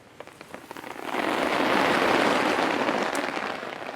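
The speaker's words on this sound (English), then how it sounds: "That rain's still on." Steady rain falls on a wild camp in Wales, a loud close wash of drops on surfaces that swells after the first second and holds without talk.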